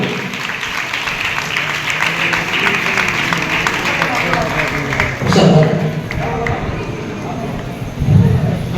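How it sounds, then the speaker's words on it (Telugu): An audience claps steadily throughout a felicitation ceremony honouring Perupogu Yesuratnam in Durgi, Palnadu district. The dense applause rolls on for several seconds under loud talking voices, with a few brief bumps of handling noise. "అందరూ చప్పట్లు కొట్టండి."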